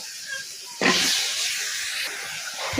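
Washed vegetable stalks hit a pan of hot spices with turmeric and erupt into a loud, sudden sizzle after a quiet moment, the hissing fry continuing steadily and fading slightly toward the end.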